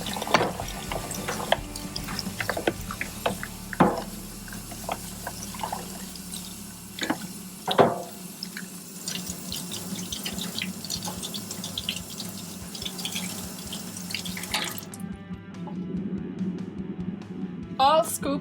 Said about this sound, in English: you fill a bucket with hot water and soap and you scrub the scoop